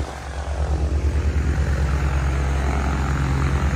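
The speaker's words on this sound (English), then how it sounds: "Look at all these planes over here." Propeller airplane engines drone loudly and steadily nearby at an airfield in Ardmore, Oklahoma, with a rhythmic throbbing pulse to the hum.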